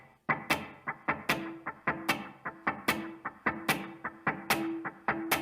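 Overdriven rhythm guitar chords for a worship song strummed on quarter notes through a dotted eighth note delay, so each sharp attack is answered by bouncing repeats in a steady, driving pulse, close and loud with no talking.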